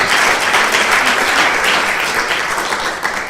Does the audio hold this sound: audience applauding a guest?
yes